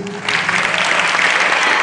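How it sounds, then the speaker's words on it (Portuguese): Short, lively round of clapping from students in a school setting, rising quickly and holding steady and loud. "Pessoal, palmas para vocês"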